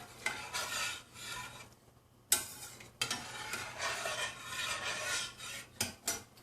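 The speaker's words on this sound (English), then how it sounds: "we have to keep on stirring it so it don't burn" Milk with crushed cardamom being stirred in a pot, a spoon scraping and swishing in repeated close strokes with a brief pause midway and a few sharper knocks near the end.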